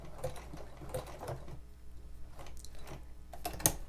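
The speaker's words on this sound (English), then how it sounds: "I'm going to do another back stitch here" Short bursts of a domestic sewing machine running a back stitch on fabric applique, rapid mechanical needle ticking in brief runs with pauses, close and fairly quiet.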